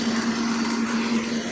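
A small walk-behind tiller, a compact tractor-like machine, churns through a field, its engine a steady, close, high-revving drone with constant vibration and no breaks.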